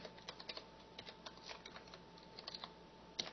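Close, light clicking of code being typed on a computer keyboard, irregular bursts of keystrokes with short pauses between them, quiet and alone without talk.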